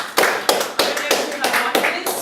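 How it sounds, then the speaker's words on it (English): A small group claps in a slow, spaced rhythm of distinct hand claps, with murmured voices audible beneath the claps. "Round of applause."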